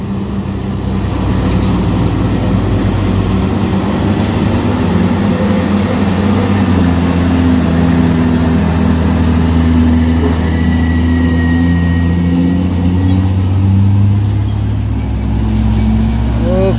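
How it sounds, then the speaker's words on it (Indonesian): A Shacman trailer truck labors up the steep Bukit Kodok hill, its engine a loud, close, sustained low drone with shifting tones throughout, while someone talks over it. "Oke, truk trailer ngelong bos."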